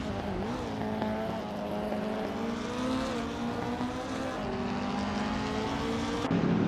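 A Callaway Corvette C7 GT3R race car in a racing video game holds a steady, droning engine note that climbs and dips slightly as it shifts, loud and continuous throughout, with no voices over it.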